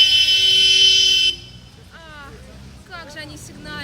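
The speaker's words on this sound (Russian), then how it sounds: "Как же они сигналят." Several car horns toot in a loud, sustained blare in a rainy Manila traffic jam, then shorter honks follow amid street noise while people talk nearby.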